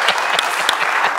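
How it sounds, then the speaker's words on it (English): A brief, loud burst of audience applause at a Medicare for All policy talk, thick, close clapping from a packed room with no talk over it. "That's an applause line."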